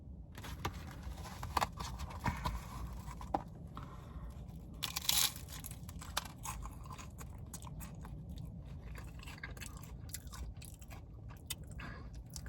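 Someone bites and chews a crunchy Taco Bell tostada shell topped with refried beans, red sauce, lettuce and cheese, giving faint, close, irregular crunches over a quiet background.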